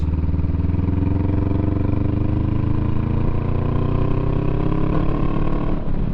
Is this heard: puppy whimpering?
no